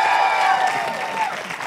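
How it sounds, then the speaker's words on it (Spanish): Applause from a studio audience for Gloria Izaguirre on a late-night comedy show, a sustained crowd clapping that fades slightly, with a voice carrying over it. "aplauso para Gloria Izaguirre"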